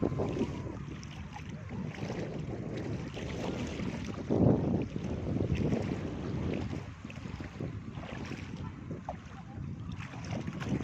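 A boat moves across open water, waves splashing and wind buffeting the microphone in a continuous rushing noise.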